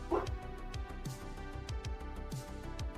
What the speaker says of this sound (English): somebody with a loud diesel just went up the road and drove the dogs crazy and they started barking